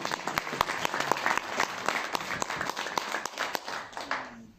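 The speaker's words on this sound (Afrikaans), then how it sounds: "Ek wil hê dat ons vir hulle 'n fantastiese hande klap." Steady applause from a church congregation, dense hand clapping that carries through most of the stretch at moderate volume, then thins out near the end.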